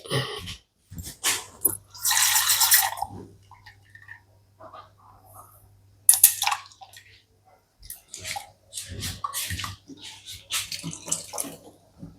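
Water runs and splashes in short bursts as ground coconut is rinsed out with a little water, with clinks and quiet gaps between. No one speaks.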